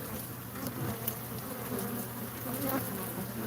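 Bees swarming around an established hive, a close, continuous buzzing drone with individual insects flitting past, no voices.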